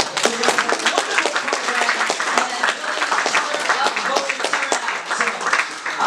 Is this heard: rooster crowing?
no